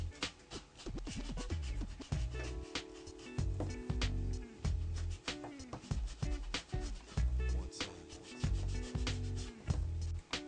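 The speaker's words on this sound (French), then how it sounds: "Et j'encre mes bords." Paper edges are inked with an undiluted ink pad in scrapbooking, giving soft, repeated rubbing and scuffing strokes in an irregular rhythm, close and fairly quiet.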